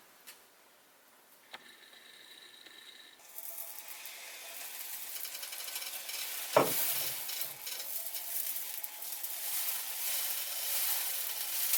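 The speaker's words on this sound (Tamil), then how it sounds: "மிக்ஸ் பண்ணிட்டு நம்ம ஸ்டவ் ஆஃப் பண்ணிடலாம்." Sambar with coriander stirred in a pot on a stove, beginning quietly with a few taps, then swelling into a steady bubbling hiss with a sharp clack of the spoon midway, no talking.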